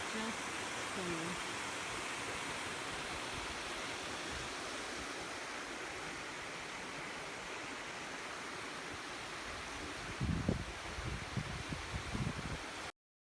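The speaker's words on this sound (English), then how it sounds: "this very loud waterfall" A loud, steady roar of rushing water from a waterfall at Inks Lake State Park fills the whole clip, with some brief rustling or handling noise near the end.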